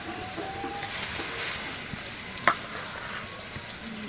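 Potatoes and rice are stirred in hot water in a wok, giving a soft scraping and bubbling hiss with one sharp clink of the utensil against the metal, faint and close, while birds coo quietly in the background.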